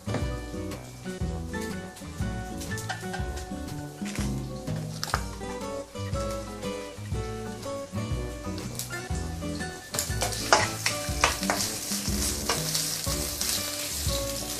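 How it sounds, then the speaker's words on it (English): Garlic sautés in a mix of sesame and vegetable oil for Taiwanese three cups chicken, with a loud, continuous sizzle and crackle that grows brighter toward the end, under steady background music. "I'm going to saute the garlic together"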